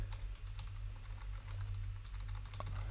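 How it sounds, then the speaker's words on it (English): Keys clatter rapidly on a computer keyboard in a quick, uneven patter of close clicks over a steady low hum, with no speech. "If I can actually type in."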